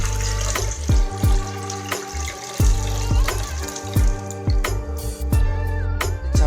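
Boiled jaggery drink is strained through a sieve, with liquid splashing and dripping close up, broken by a series of regular sharp knocks or taps against the vessel.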